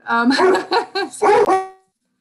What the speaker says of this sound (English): So open the public hearing with a knock and a dog bark.